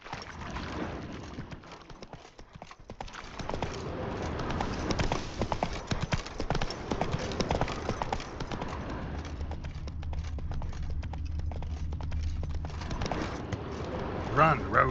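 Rapid, rhythmic hoofbeats of a horse galloping in the video game The Witcher 3: Wild Hunt, close and steady for the whole stretch, with a soft rumbling bed underneath.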